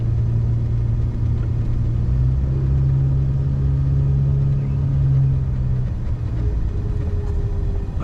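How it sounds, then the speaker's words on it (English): Motor of a 1990 Volkswagen Cabriolet while driving, a steady low droning engine hum with road rumble, loud and continuous, with a brief rise in pitch partway through and no talking. "I'm going to shut up so you can hear the motor."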